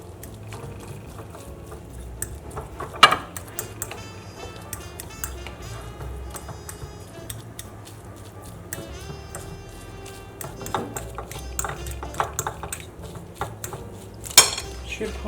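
Avocado and tuna mashed in a bowl for a mousse, with soft utensil scrapes and clinks against the dish, a few sharper knocks standing out amid quiet kitchen background.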